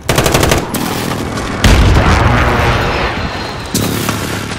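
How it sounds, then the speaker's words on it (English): Precision airstrike explosions in Modern Warfare (2019): loud, close booms land in a quick series, each with a deep rumbling roll and crackling debris, near continuous rapid fire. "Be advised, friendly precision airstrike inbound."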